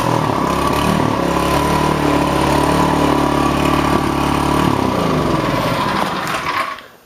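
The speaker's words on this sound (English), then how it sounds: "Let's see if she'll fire up." A rototiller fitted with a swapped-in small engine fires up and runs at a steady, loud, close chugging idle for several seconds, then cuts out and fades to silence at the end, with no voices.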